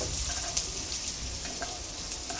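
Onions and tomatoes frying for a spicy chicken masala give a steady, close sizzle with soft stirring scrapes breaking through now and then, and no voices.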